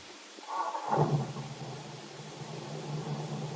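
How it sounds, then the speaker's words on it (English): A car motor starts and settles into a smooth, steady idle in an old-time radio drama scene, a brief rising churn giving way to a low continuous purr that holds on alone. "Now, as they get into the new car, Bill starts the motor."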